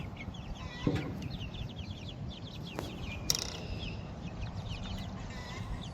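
Baby chickens in a small homemade chicken tractor give soft, scattered clucks and peeps, with a couple of sharper calls standing out over a steady outdoor background.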